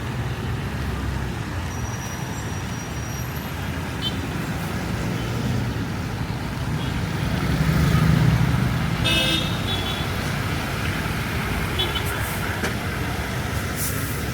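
Steady street traffic in uptown Cagayan de Oro, a continuous roar of cars and buses with a swell of engine noise midway and a few faint horn toots, constant throughout with no clear talk.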